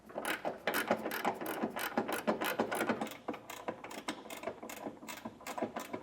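A ratcheting wrench tightens the bolts of a B&W Class III trailer hitch on a 2025 Toyota RAV4, making a dense, rapid run of close clicking ratchet strokes in quick bursts with no speech.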